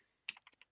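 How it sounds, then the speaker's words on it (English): Quick bursts of keystrokes on a computer keyboard while entering text in Photoshop CS6, close and crisp, about half a dozen clicks in under a second after brief quiet. "So we're just going to type Tyler."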